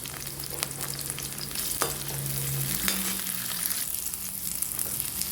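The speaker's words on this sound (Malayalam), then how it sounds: "സവാളയും തക്കാളിയും മുളകും എല്ലാം കൂടെ ഒന്ന് വഴറ്റിയെടുക്കണം." Onions, tomatoes and chillies sautéing in coconut oil, a steady close frying sizzle with a few stirring scrapes and clicks from the spoon, continuous and unbroken, without speech.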